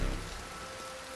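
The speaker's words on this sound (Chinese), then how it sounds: "为什么突然开始下雨？" Rain falls steadily in a soft continuous patter, quiet and unbroken, with no voices.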